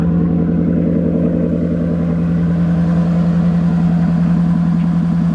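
A Maserati car engine runs with a steady loud low hum and throb, recorded close from inside the car while driving, with no talk over it.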